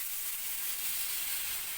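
Spice paste dropped into hot oil over tempered whole cumin, hissing and sizzling steadily up close with no talk.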